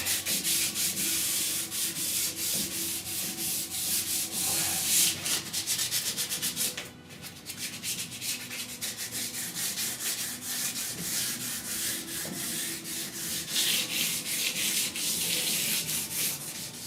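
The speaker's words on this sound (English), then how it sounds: "A little hand sand to go over it." Hand sanding primer surfacer on the roof of a 1969 C10 truck, a continuous close scratchy rubbing in rapid back-and-forth strokes, steady and loud with a brief pause midway.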